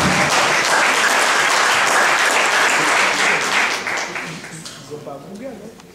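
Loud audience applause at a Haitian quiz show launch event in Paris, dense clapping that holds strong, then thins and fades over the last seconds as voices begin to emerge.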